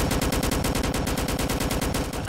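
Rapid automatic gunfire roars in the Roblox game A Dusty Trip, an unbroken burst of loud, evenly spaced shots filling the whole moment without speech.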